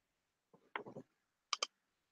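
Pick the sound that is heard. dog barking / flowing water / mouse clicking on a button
mouse clicking on a button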